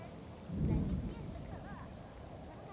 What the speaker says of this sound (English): I can slip, I think, because it's raining.